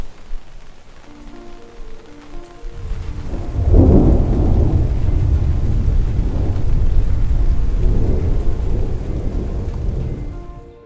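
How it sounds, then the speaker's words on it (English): Thunder rumbles in during a Colorado thunderstorm, a quiet patter giving way after a few seconds to a long, loud rolling boom that swells and fades over steady heavy rain. "And then the thunder started"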